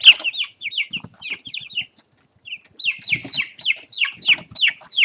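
Several chickens chasing one another and a pink ball in search of mealworms, making a fast run of close, high clucks and chirps in bursts, with a short silent pause in the middle.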